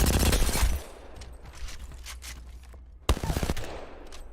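Rapid automatic gunfire in the Apex Legends firing range rattles loudly in a sustained burst, breaks off into quieter clicks and mechanical handling, then resumes with another fast burst.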